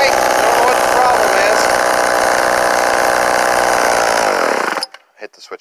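A Homelite XL12 chainsaw engine with a chain-sticking fault runs loud and steady nearby, a buzzing drone that cuts out abruptly near the end, leaving brief scattered noises.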